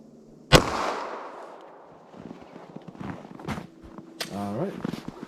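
A 9mm+P Woodsman defense round fired from a 5-inch barrel into ballistic gel: one sharp, loud shot near the start that decays into ringing, followed by scattered shuffling and handling noises.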